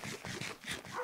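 A dog yips and barks in a quick rapid series, somewhat muffled and distant, filling a short moment with a noisy indoor background.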